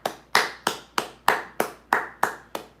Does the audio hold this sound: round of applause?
yes